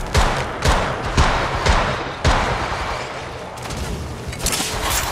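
Rapid shotgun blasts from an automatic Mastiff in Apex Legends Mobile, a string of loud, close booming shots in quick succession, then a quieter tail of clatter and action.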